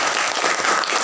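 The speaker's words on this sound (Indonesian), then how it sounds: "Kita berikan aplaus atau tepuk tangan terlebih dahulu." A classroom of students claps in a dense, steady burst of applause for classmates, filling the room briefly with no talk over it.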